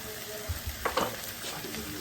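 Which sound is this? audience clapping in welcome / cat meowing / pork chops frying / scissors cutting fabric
pork chops frying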